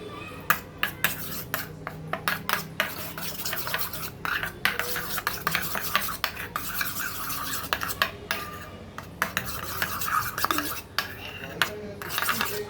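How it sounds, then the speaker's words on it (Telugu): Sandwich filling with chilli flakes and oregano is mixed in a bowl. A spoon scrapes and clinks against the dish in quick, irregular strokes, fairly soft and close, with no talking. "ఇప్పుడు దీన్ని అంతా మిక్స్ చేసేసుకోవాలి"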